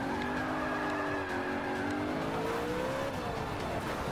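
Race car drifting in Forza Motorsport 5, its engine droning steadily under a continuous, loud tire skid and squeal with no break.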